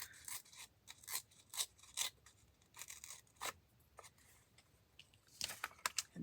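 Paper is torn along its edge in a run of short, close, crisp ripping strokes, irregularly spaced and quiet, with no voices.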